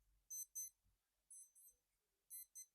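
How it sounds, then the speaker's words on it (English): A smartwatch alarm beeps in three paired bursts of high-pitched electronic tones, each pair about a second apart, fairly quiet over near-silence. "there's my alarm going off my watch to tell me to go to bed"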